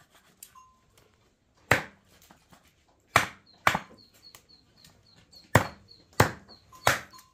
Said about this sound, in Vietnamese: Này chặt bao giờ mới xong được hai con gà.